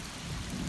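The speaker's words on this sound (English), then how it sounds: "raining on and off" Rain comes down on and off outdoors at a sandy, muddy land-clearing site in the Big Thicket, a brief steady wash of patter with a low rumble underneath and no voices.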